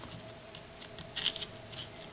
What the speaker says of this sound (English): And I'm going to cut the bone away.